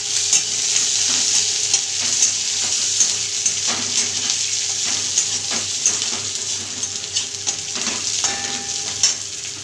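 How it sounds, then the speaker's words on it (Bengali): A bay leaf goes into chopped onions frying to a light red for a soybean and potato curry, bringing a steady close sizzle with scattered stirring scrapes and clicks throughout, no voices. "একটা তেজপাতা দিয়ে দিলাম কেটে।"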